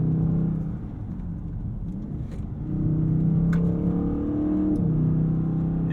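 A Dodge Charger Scat Pack Widebody on all-season tires powers out of corners, its engine rumbling loudly and steadily with rising harmonic pitch sweeps as it accelerates, easing briefly before surging again.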